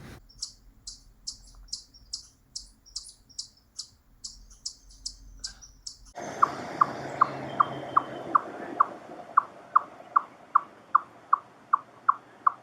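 A chipmunk gives a fast, evenly spaced series of sharp, high chip calls, then shifts to a lower, steady run of chuck calls. The repeated calls are fairly loud and close over a light background hiss, with no voices.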